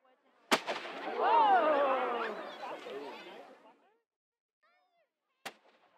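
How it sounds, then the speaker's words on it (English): A ceremonial cannon salute fired outdoors at a fort to mark the new year: one sharp, loud boom with a long rolling echo, then a second, fainter report near the end. "Board officials organized a cannon salute to the new year."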